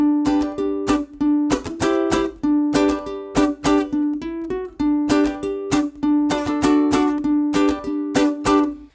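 A ukulele playing a country strum of a song, with bright, rhythmic chord strums in a bouncing pattern and clear ringing notes between the strokes, played alone without voices.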